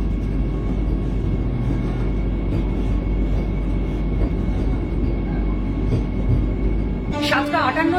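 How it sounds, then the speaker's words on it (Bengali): Loud, continuous rumble and rattle of a Vande Bharat Express train pulling into Kharagpur station, with heavy low-frequency noise throughout and a brief squeal near the end. "আমাদের নেক্সট স্টেশন খড়গপুরে ট্রেন এখন ঢুকছে"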